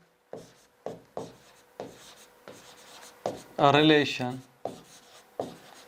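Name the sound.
writing a definition on a board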